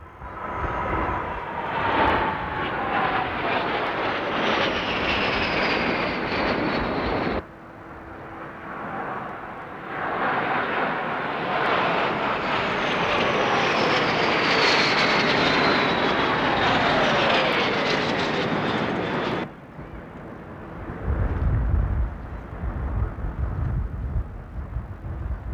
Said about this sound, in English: Their aeroplane, the C-101 Aviojet, is a 2-seat trainer built in Spain by Construcciones Aeronáuticas S.A.,